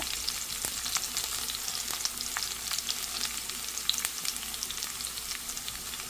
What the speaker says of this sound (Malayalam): അതുകൊണ്ടാണ് ഞാനിപ്പോൾ കടു വറുത്തിടുന്നത്